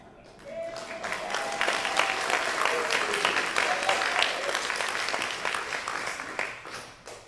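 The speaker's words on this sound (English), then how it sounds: "We encourage you to applaud, especially when we tell you to with the applause sign." A theatre audience breaks into applause at a community arts centre show, clapping swelling quickly from quiet and holding steady, with a faint voice-like tone early on, before tapering at the end.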